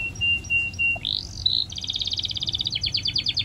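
Egrets calling above a field where a tractor works, a clear bird call followed by a quick rhythmic series of chirps, close and loud over a low rumbling background.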